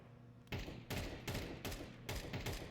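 Rapid bursts of video game gunfire from a player pre-firing an angle, with three or four loud, sharp volleys in quick succession and echoing tails, without any talk.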